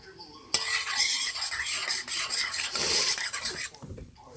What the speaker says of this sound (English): Let's mix this up first